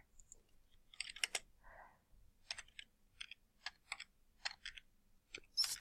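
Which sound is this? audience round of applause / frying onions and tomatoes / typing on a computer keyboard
typing on a computer keyboard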